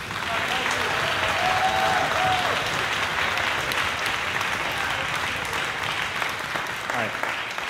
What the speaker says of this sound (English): Let's give another big round of applause to these award winners.